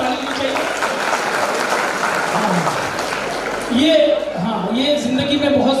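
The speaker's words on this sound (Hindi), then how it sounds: "एक बार जोरदार ताली चाहिए" A live stand-up comedy show crowd breaks into sustained, loud applause with cheering, a dense wash of clapping throughout, while a voice speaks over it toward the end.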